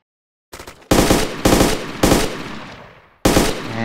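Close, loud automatic fire from the video game ArmA 2 during infantry combat: four sharp bursts in quick succession, a decaying tail, then one more burst, with no talking.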